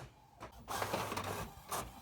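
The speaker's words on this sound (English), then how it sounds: "the printer seems to be working now" An office printer running off information sheets, its mechanism whirring and clattering in two bursts separated by brief quieter pauses, close and moderately loud with no talk.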